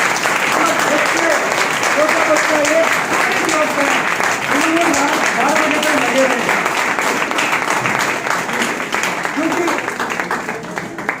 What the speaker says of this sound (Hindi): एक बार जोरदार तालियां चाहूंगा धर्मेंद्र जी की पूरी फैमिली के लिए